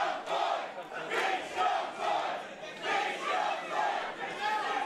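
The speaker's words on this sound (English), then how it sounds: "the crowd really loving Ethan Price here" A wrestling crowd at an AAW Pro Wrestling show chants and cheers in rhythmic waves, loud and sustained, with repeated rising surges of voices filling the arena.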